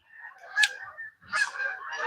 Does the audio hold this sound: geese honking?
yes